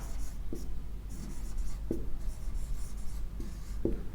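Marker or chalk strokes on a classroom board during a Hindi-medium English translation lesson, a few short scratchy strokes spaced about a second apart over a steady low room hum.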